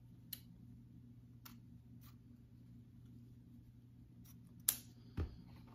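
Scissors snip through ribbon while a Christmas bow is being made, giving a couple of sharp, close cuts near the end after a few faint ticks over a quiet room hum.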